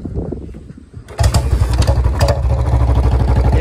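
A Royal Enfield Bullet BS4 motorcycle engine cranks and catches after a quieter stretch, then settles into a loud, steady, thumping idle close by.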